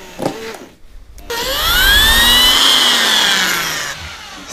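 A power drill whirs loudly with a rising whine and stays running for several seconds while tyre studs are fitted to a found scooter, preceded by brief clatter and a moment of quiet.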